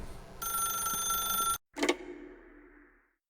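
A telephone rings in The Stanley Parable, a steady electronic bell trill lasting over a second, then a sharp cut to silence and a single loud ring-like burst that fades away.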